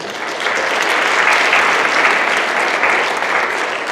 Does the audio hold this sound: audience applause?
yes